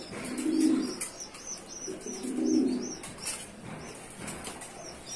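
A pigeon, just given medicine, lets out two soft, low cooing bursts close by, with faint higher chirps of other birds scattered in the background and no talking.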